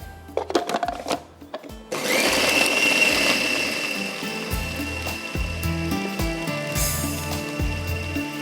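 A kitchen blender grinds gola kabab mixture until smooth. After a few short pulses it starts up into a loud, steady high-pitched whir that wavers slightly as the motor runs on, close and alone.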